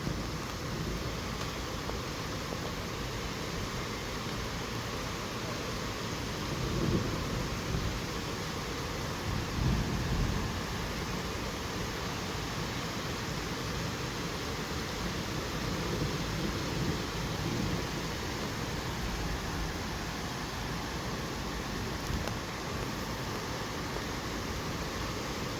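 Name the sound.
approaching hailstorm with thunder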